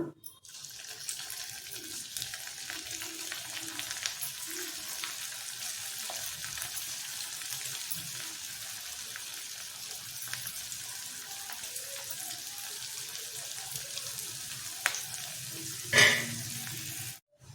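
Mini samosas frying in hot oil give a steady, close bubbling sizzle with no talking, ending in a brief louder burst near the end.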